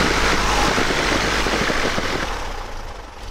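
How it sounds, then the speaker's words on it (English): A Cessna 150 light aircraft's piston engine idles steadily on the ground before takeoff, a loud, close, continuous rumble with a slight fade toward the end and no talking. "Idle's good. Making sure the engine doesn't close off."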